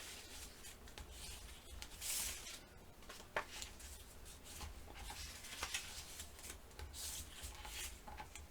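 Soft, continuous rubbing and scraping as a tool burnishes along the score lines of folded paper, faint and close, with a few light taps and no talking.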